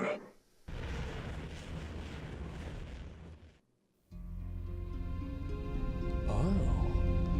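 A Protoss Purifier core in StarCraft 2 charging and firing its purification beam: a broad roaring surge, a brief near-silence, then a loud sustained tonal drone that swells toward the end.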